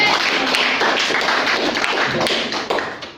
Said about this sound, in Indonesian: Tepuk tangan untuk Ibu Nelly.